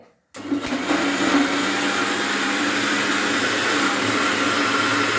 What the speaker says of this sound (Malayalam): ഇത് 1 മിനിറ്റോളം നല്ലതുപോലെ മിക്സിയിൽ അടിച്ചെടുക്കണം.